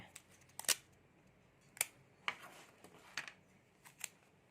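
Packing tape being pulled and pressed onto a cactus package, heard as several sharp, brief rips and crackles at irregular intervals, close and quiet against a low background.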